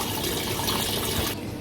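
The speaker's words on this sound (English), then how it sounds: "we're just filling up with the sterile water" Sterile water rushes steadily into the tank of a Maquet HCU 40 heater-cooler unit during its disinfection rinse, a loud continuous gushing pour that cuts off abruptly near the end.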